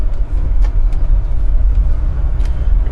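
A 1980 BMW 528i driving through a residential neighborhood in Milwaukee, heard from inside the cabin: a steady, loud low engine and road rumble with faint rattles and no talking.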